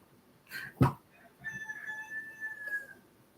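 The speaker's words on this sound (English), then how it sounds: "And the roosters are crowing." Roosters crowing on a Sunday morning, one long drawn-out call with a rising then falling tone, preceded by a sharp knock, heard at moderate distance over faint background noise.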